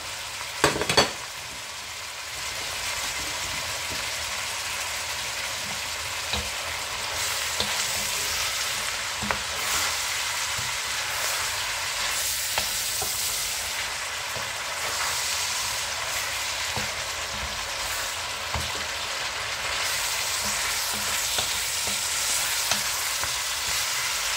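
Cabbage fries in a pot with tomato, chives and onion, giving a steady, moderately loud sizzle with scraping stirs and occasional clatters throughout, no voices.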